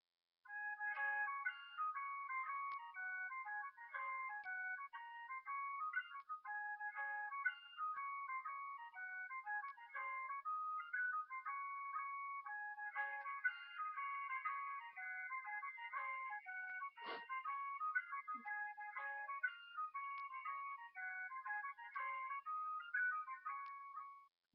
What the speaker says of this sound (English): The next ringtone is the Zelda Wind Waker flute intro.